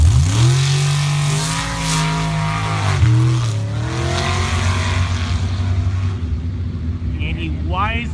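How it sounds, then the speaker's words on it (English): At a drag racing nationals, a Jeep race car's engine roars loud and close, holding a steady pitch before shifting and climbing as it accelerates, with a commentator talking throughout. "It's a very, very consistent Jeep, and Brian knows how to drive."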